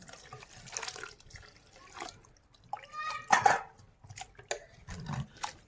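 Tripe is rinsed in boiling water in a rustic village kitchen: sloshing, splashing bursts and trickles come in irregular spurts, close and moderately loud, with pauses between them.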